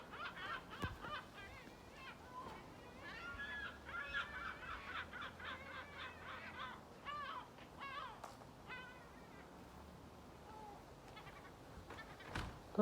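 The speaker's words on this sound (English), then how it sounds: "we've got these gulls coming over the house" Several gulls call over a house in a series of harsh, honking cries, rising and falling at irregular intervals, faint and distant with quiet stretches between calls.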